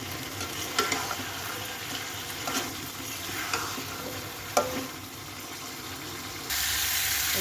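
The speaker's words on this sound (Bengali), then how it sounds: "মুরগিটাও ভাজা হলো।" Chicken pieces frying with cumin and chili in a pan for a chicken and potato curry, a fairly quiet steady sizzle broken by occasional stirring clinks and scrapes, growing brighter and louder near the end.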